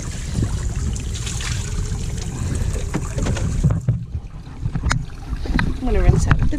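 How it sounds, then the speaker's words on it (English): Water splashing and trickling as a dinghy is rinsed out aboard a sailboat under refit, a steady wash of water with occasional knocks and brief voices in the background. "I'm gonna rinse out the dinghy."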